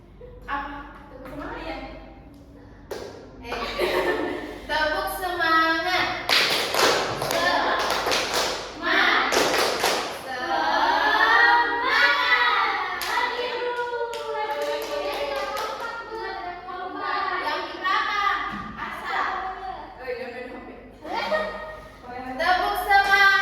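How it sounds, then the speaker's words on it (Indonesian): Students in a classroom during a micro-teaching lesson do a rhythmic spirit clap for a classmate, with sharp clustered claps and thumps mixed with children's chanting and talking voices. "Tepuk semangat dulu untuk temannya."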